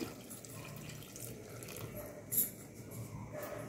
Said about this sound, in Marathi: आता आपण हे वरी ठेवलेलं पाणी याच्यामध्ये टाकून घेऊ